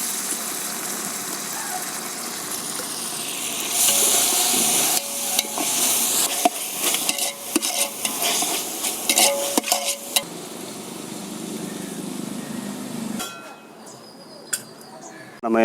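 Onions browned in a pot with ginger garlic paste added, frying and being stirred for fish biryani in a thatched hut, with a steady sizzle and scraping strokes over a hum, and a voice speaking over it.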